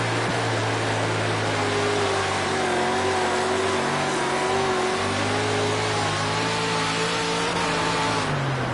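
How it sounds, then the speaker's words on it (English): A race car engine held at full throttle in a racing video game, a loud continuous high-revving drone with steady tonal whine and slowly shifting pitch, running without a break from start to finish. "Full throttle."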